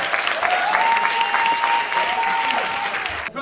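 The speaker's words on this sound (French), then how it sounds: "On applaudit Clara," A studio audience breaks into brisk applause for a dating-show contestant, dense clapping from a crowd that holds steady for a few seconds, with a faint tone and bits of chatter running underneath.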